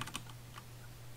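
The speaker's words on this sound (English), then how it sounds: "I just prefer speedrunning this game on keyboard because it's" Computer keyboard keys are mashed rapidly during a Cave Story speedrun, a quick cluster of close, faint clicks at the start and then a few scattered taps over low hum.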